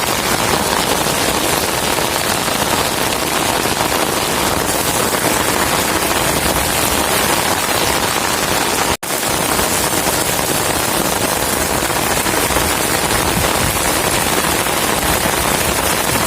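A storm's heavy rain roars without letup as a thick, loud wash of drops drumming on surfaces nearby, broken only by a brief cut about halfway through.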